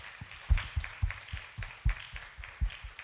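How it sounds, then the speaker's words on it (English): An audience at a water and sanitation report launch keeps clapping for Mr. Kodia, a light, steady patter of claps with a few louder hits. "Shall we keep clapping for Mr. Kodia?"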